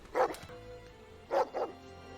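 A strong dog barking in a TV show: one bark, then a quick double bark about a second later, moderately loud over a quiet background.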